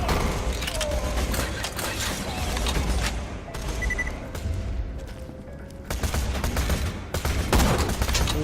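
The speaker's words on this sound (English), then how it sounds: "I got to pay for it with an extra long bolt action reload" Bolt-action rifle in Borderlands 2 video game, with game gunfire and mechanical reload clatter in a steady, busy soundscape, punctuated by several sharp loud bursts, with little or no talking.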